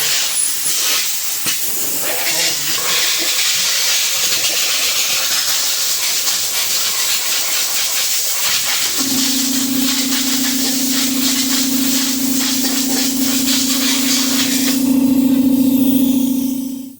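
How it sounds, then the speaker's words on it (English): An air compressor's air chuck blows off a freshly cleaned small-block Chevy 400 engine block, clearing cam bearing holes and oil galley holes. It gives a loud, steady hiss throughout, with a sustained hum joining halfway and a stronger burst near the end. "Get my air compressor, my air chuck, blow them off, clean them out."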